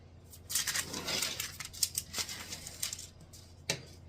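Knife or scissors cutting slits into a parchment or foil liner for a sandwich loaf pan, heard as faint, quick crisp snips and rustles in an irregular cluster, close and quiet with no talking.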